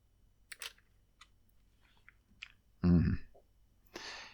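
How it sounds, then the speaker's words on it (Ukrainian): An electrical circuit breaker is switched, giving a few faint scattered clicks followed by a louder, fuller snap of the switch near the end, then a brief rustle. "Клацаємо автоматично вимикачем і знову система працює."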